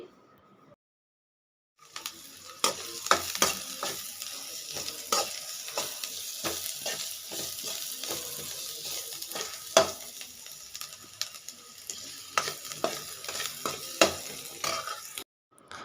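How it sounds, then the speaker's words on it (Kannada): Onions fry in oil in a pan with a steady sizzle, broken by frequent sharp clicks and scrapes of a spoon stirring them; close and moderately loud, with no talk. "ಇಷ್ಟು ಈರುಳ್ಳಿ ಫ್ರೈ ಆದಮೇಲೆ ಸಾಕು"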